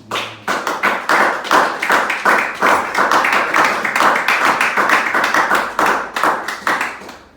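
A church congregation applauds the word of God during a fasting and prayer service, a dense, steady clapping of many hands that runs continuously and fairly loud for several seconds with no talk over it.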